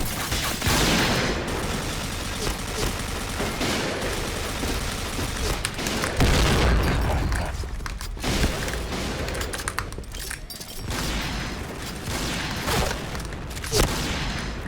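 Rapid bursts of gunfire and booming shots from a shooting video game featuring a Barrett .50 rifle, dense and loud across the whole stretch with repeated sharp cracks and no talk.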